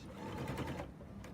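A serger runs a steady quick stitching pass along quilt binding folded to a quarter-inch seam, a fairly quiet continuous mechanical whir that slows slightly near the end, with no talking.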